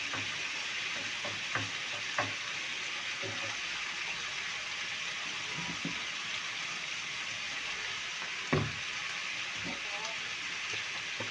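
Garlic and onion sizzle and fry steadily in oil in a pan, a constant crackling hiss with occasional soft clinks of stirring.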